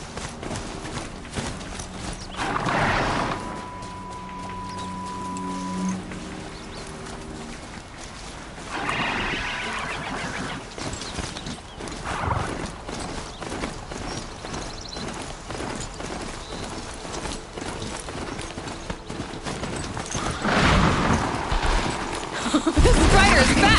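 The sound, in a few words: riding an overridden machine mount, Horizon Zero Dawn video game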